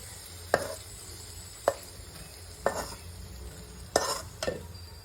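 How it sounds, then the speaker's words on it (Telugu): Raisins roasting in ghee in a pan for dry fruit laddu, a soft steady sizzle under five sharp spoon scrapes and knocks spaced roughly a second apart, close and fairly quiet. "కిస్మిస్ని కూడా ఇలా నేతిలో బాగా రోస్ట్ చేసేయండి."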